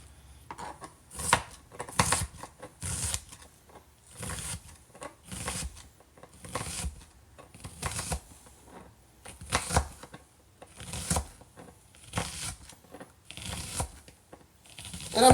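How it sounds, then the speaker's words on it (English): A knife peels and slices a yellow onion on a cutting board, giving close, crisp, repeated chopping and tearing sounds in an uneven rhythm, roughly one cut every second. "Get that outside layer, that's no good. Gotta be careful on that last cut."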